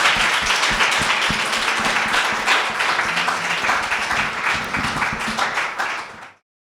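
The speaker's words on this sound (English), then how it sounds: "Please give our panelists a warm round of applause." An audience at a public panel discussion on health care gives the panelists a warm round of applause, a loud, dense burst of many people clapping that carries steadily before cutting off abruptly.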